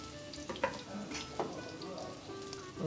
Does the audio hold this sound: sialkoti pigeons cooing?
no